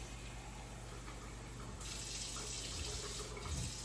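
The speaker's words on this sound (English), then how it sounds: "Now I need 3/4 cup hot water. Get this steaming." Hot tap water runs steadily into a measuring cup, a continuous close hiss of flow that grows fuller and brighter partway through as the stream strengthens or the cup fills.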